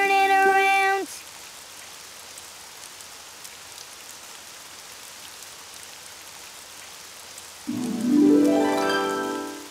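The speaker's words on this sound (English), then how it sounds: "Oh, it's raining outside." Steady rain falls outside in an animated children's show, a soft continuous hiss running for several seconds between bright musical tones at the start and end.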